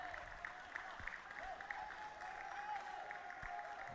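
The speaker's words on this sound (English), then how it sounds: "taking a breather with a round of applause" Applause from a stadium crowd at a SAFF Under-20 football match between Nepal and Sri Lanka at the Kalinga Stadium, heard as a steady, distant wash of clapping with a faint tone running through it.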